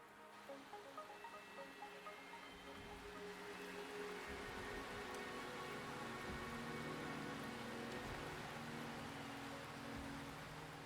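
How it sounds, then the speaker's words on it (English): Steady rainfall in the video game Wuthering Waves hisses as a broad, even wash with soft patter of drops, swelling slightly after the opening seconds and continuing without voices. "The rain is subsiding, and the sky will soon clear"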